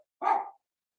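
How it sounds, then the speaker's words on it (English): A dog gives one short, clear bark, sharp and close, with silence before and after; it is one of several dogs barking together. "They're all barking."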